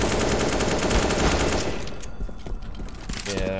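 Rapid CS:GO gunfire crackles in dense, loud bursts from a co-op mission, strongest in the first two seconds and then thinning into scattered shots, with faint game tones near the end.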